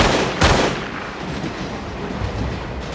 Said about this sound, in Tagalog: Binihag ni Frank ang isang pasahero at sumiklab ang isang barilan, ngunit napatay si Roy sa palitan ng putok.